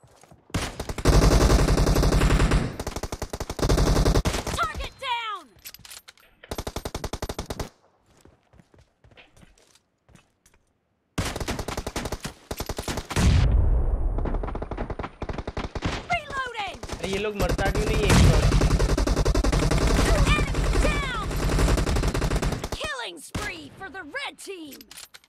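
Gunfire from the battle royale game PUBG Mobile in rush-style play, loud rapid bursts of shots in several volleys with footsteps, a quiet gap near the middle, then renewed firing.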